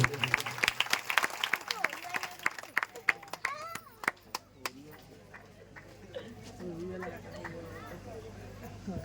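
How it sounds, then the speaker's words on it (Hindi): Scattered, uneven clapping from an audience at a Shrimad Bhagwat Katha religious gathering in Sitapur. Sharp claps start fairly loud, then thin out and fade, with people talking through it. "सभी ताली बजाते हुए।"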